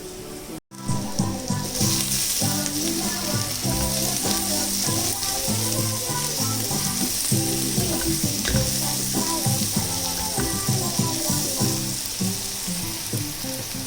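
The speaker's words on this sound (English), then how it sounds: "So our onions are almost cooked." Onions fry in a pan for prawn mappas, making a loud, continuous close sizzle and crackle with busy spatters throughout after a brief cut at the start, with no voices.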